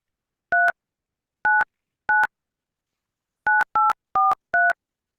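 A telephone keypad dials a number, giving seven short dual-tone beeps, two early, one alone and then a quick run of four, clear and close with silence between them.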